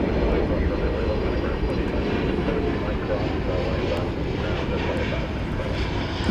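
An Airbus A321neo jet, American flight in from Seattle, landing at DFW Airport: a steady, loud engine roar and rumble that holds evenly throughout, with faint talk mixed beneath.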